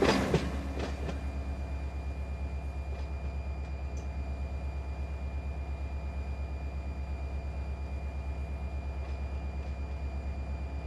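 In the Run 8 train simulator, a freight train crosses a bridge with a continuous low rumble and a steady rhythmic clatter of wheels. The sound holds constant throughout, with a few faint clicks over the top.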